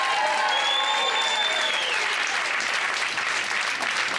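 Live audience applauding a performer named Olivier Foy, steady, full clapping that fills the whole stretch, with a few excited cheers and whistles rising above it.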